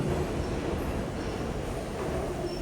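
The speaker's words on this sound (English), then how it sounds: "still see that train." A train rolling through an underground station on the old Hudson Tubes line, a dense, loud rumbling roar of wheels and cars that holds steady throughout with no voices.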